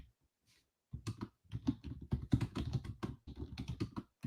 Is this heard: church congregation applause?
no